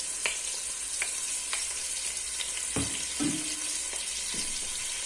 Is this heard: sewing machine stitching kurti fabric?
no